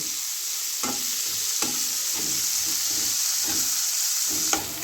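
Chopped spring onion greens fry in plenty of oil in a pan for a catfish curry, a steady bright sizzle broken by a handful of evenly spaced spatula scrapes while stirring.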